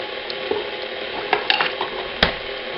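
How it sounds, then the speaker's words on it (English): Dry cake mix of flour, baking soda and salt is stirred in a bowl, giving a soft continuous scraping rustle with a few sharper clicks of the utensil against the side, close and alone. "Mix that in the flour."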